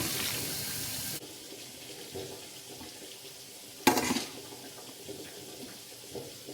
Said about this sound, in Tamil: இந்த குளிர் தண்ணி கொஞ்சம் விடுகிறேன்